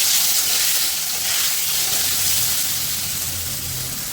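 A tomato drops into hot oil with fried potatoes and turmeric, releasing a loud, even hiss of sizzling that fades slightly as it continues.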